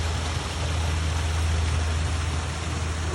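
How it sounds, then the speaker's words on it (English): Steady broadband rush of a waterfall spilling into a pond at a Hawaii resort, continuous and fairly loud with a deep low rumble underneath, heard close with no talking. "Another waterfall. Another pond."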